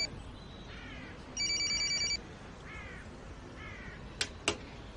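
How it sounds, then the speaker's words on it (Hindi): A telephone rings in a Turkish TV drama scene, a short electronic ringing burst amid low room tone, with a few faint chirps and two brief sharp clicks afterward. "एमिर का फोन है। उठा लो।"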